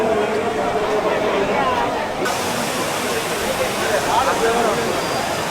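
The steady, loud rush of Courtallam waterfall pours continuously with a busy crowd chattering and calling beneath it, bathers' voices mixed into the broad spray noise.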